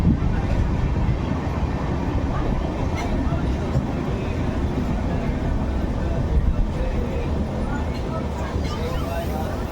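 Inside a moving passenger train on a hot day, a continuous low rumble and rattle of the carriage fills the background while people talk over it.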